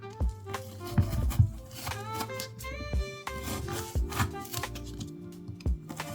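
A CJRB Acacia folding knife blade saws through thick 14 mm rope in a series of sharp, crunchy strokes, close up, with creaks and fibrous snapping between cuts.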